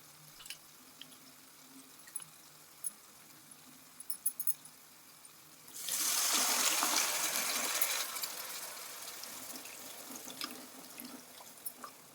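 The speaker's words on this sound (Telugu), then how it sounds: "చింతపండు పులుసు కొంచెం వాటర్ వేసుకొని ఇప్పుడైతే పులుసు కూడా పోసేస్తానండి" Tamarind water tipped into a pot of snakehead fish curry, a broad splashing pour that rises suddenly, holds loud for about two seconds, then eases into a softer continued trickle, with small clinks before it.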